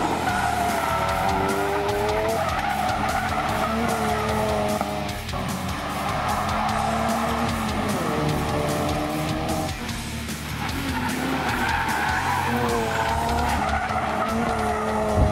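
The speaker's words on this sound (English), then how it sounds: "see how long you can keep the car going on the track for before we have anything shut off" A 2016-2018 Ford Focus RS driven hard around a race track, loud and continuous, with rising and falling engine tones and repeated tire squeal and skidding through corners, close to the microphone with no talk.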